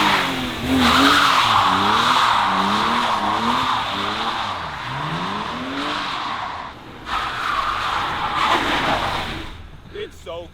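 A stock BMW E36 M3 slides with its tires squealing in long wavering skids over a loud, steady engine drone, close and continuous, with occasional voices.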